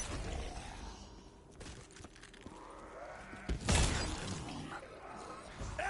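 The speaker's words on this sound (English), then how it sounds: "Everywhere they are exploding!" Explosions in Call of Duty Black Ops 3 Zombies, a video game, with scattered crashes and shattering debris and one loud blast near the middle standing out above the busy game sound.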